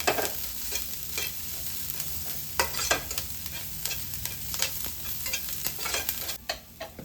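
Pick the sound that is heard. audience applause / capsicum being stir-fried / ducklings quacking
capsicum being stir-fried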